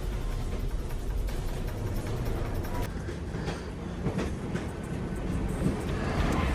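A train runs along the tracks with a continuous rumbling roar and faint clickety-clack from the rail cars, steady and fairly close, with no voices.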